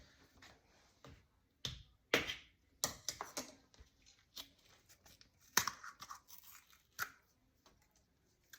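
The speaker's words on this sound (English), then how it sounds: "I got a new container that I need to open up" Several sharp snips and crinkly crunches of scissors cutting through stiff plastic, irregular and close, with short pauses between cuts.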